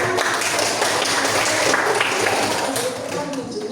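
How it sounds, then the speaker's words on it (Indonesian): Dense, continuous applause in a classroom setting, many hands clapping loudly and evenly throughout before easing slightly at the end. "Kita kasih tepuk tangan."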